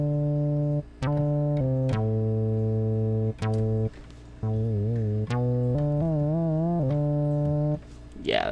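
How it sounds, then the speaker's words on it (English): Synthesizer playing a fat, resonant bass patch in a series of sustained notes with pitch changes and wobbling, filter-swept tones, separated by short gaps, loud and close with no talk over it. "Fat resonant bass."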